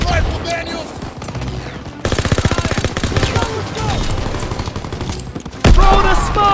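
Sustained machine-gun fire rattles in rapid bursts during a Call of Duty WWII battle, loud and close, with sharper single shots and shouted commands mixed in.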